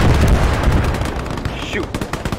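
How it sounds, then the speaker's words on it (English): Battlefield gunfire in the WW2 game Call to Arms: Gates of Hell, with German forces advancing against tanks. It comes as a dense, continuous rattle of rifle and machine-gun shots, loud throughout, and a voice speaks over it briefly. "Where are those other shots coming from?"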